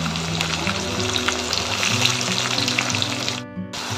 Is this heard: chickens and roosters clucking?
no